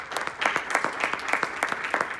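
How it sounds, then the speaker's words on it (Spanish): A church congregation at Iglesia Oasis in Hesperia claps in a steady, fairly even rhythm, roughly in unison, during a worship service, moderately loud and close. "Den un aplauso al Señor."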